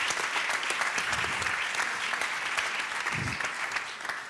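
A conference audience gives sustained applause, a dense even wash of clapping that holds at a fairly loud level throughout without breaking off.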